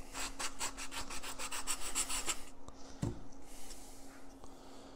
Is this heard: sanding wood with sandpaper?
yes